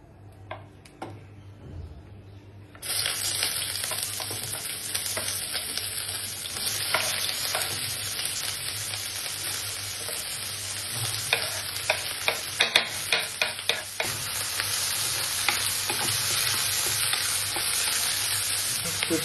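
Onions fry in hot oil in a kadai for a restaurant-style black pepper chicken. A loud, steady sizzle bursts in after a quiet start and continues close by, with intermittent clicks and scrapes of stirring and no talking.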